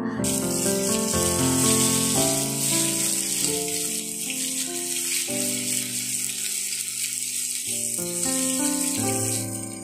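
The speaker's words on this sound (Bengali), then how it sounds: "ঘিটা গরম হয়ে গেলে ওর মধ্যে দিয়ে দেব 100 গ্রাম কড়াইশুঁটি বাটা" Ground green pea paste frying in hot ghee in a kadai, a bright continuous hiss and sizzle heard under prominent tuneful background music.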